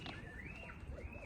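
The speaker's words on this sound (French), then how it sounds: "ça c'est le bruit des petits oiseaux" Small birds chirp in a continuous high, wavering twitter outdoors in a suburb at sunset, moderately loud, with faint low rumble beneath.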